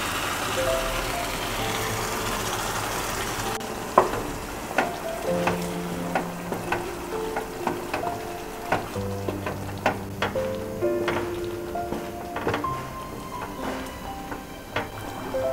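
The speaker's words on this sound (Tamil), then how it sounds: "மசாலா நல்லா கொதிக்க ஆரம்பிச்சிருச்சு." Chicken xacuti masala sizzles and bubbles in a pan, a continuous hiss of frying with frequent sharp pops and crackles scattered throughout, close and steady with no talking.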